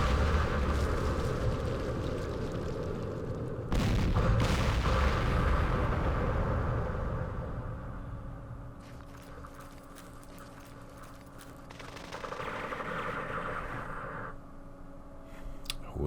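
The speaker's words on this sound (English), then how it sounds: "that's a recoilless rifle" Heavy weapons fire from a recoilless rifle in the Vietnam war strategy game Campaign Series Vietnam: a loud blast near four seconds rolls into a long rumbling decay, followed by lighter scattered shots and battle noise.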